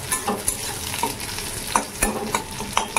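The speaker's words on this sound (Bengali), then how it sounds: "এবারে ডালটা ফোড়ন দিয়ে দেবো।" Lentil dal is poured into a hot wok of mustard oil tempered with nigella seeds, green chilli and onion. It sizzles steadily under repeated sharp clinks and scrapes of a stirring spoon.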